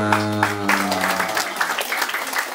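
Audience applause at an outdoor Balinese comedy show held in the rain: a steady wash of many hands clapping, following a brief sustained tone at the start and continuing at an even, moderately loud level.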